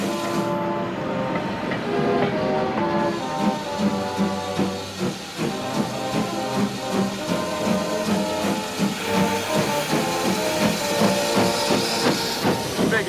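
A steam train on the line, with a replica of Queen Victoria's coach, rolls along loudly and steadily: rhythmic rail clatter, hissing steam and a whistle-like tone, close and continuous throughout.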